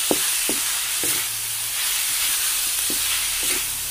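Ground pork sautéed with tomatoes and pechay sizzles in a pan with a constant bright hiss, punctuated by several sharp stirring scrapes at irregular intervals, with no one speaking.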